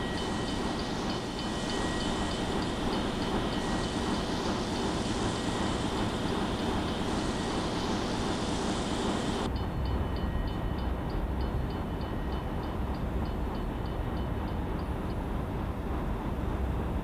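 An R-Class steam locomotive of the New Haven Railroad runs in a railroad simulator game, with a continuous heavy rolling rumble and faint repeating wheel clicks that drops noticeably in brightness partway through.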